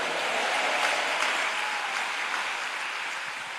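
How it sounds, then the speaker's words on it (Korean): Church congregation clapping at a large Liberation Day revival gathering in a prayer retreat hall, a thick continuous roar of many hands that stays even and loud throughout. "믿어지는 분만 박수치며 아멘 합시다"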